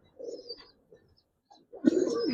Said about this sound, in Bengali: এই 3টা কবুতর যদি কোনো ভাই বন্ধু নেয়, একেবারে অফার দামে দিলাম শাওন ভাই চ্যানেলের উপলক্ষে, মাত্র 2200 টাকা।